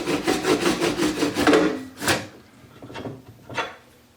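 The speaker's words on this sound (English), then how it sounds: "I'm just going to cut the last little bit off here with the saw." A hand saw rasps through the last small section of a wooden piece, with rapid back-and-forth strokes for about two seconds, then a few slower, separate final strokes, close and clear.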